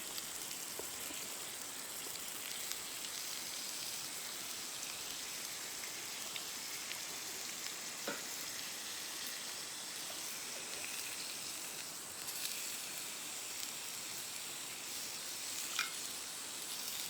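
Steak sizzling over a campfire, a steady quiet crackle and hiss of fat frying that runs on without a break, with a few faint sharper pops.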